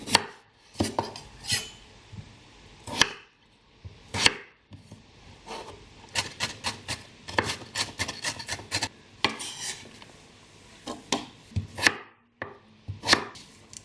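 Potatoes chopped with a knife on a board for vegetarian momos, close and fast: bursts of sharp knocks in quick rhythm broken by short pauses, with no talking.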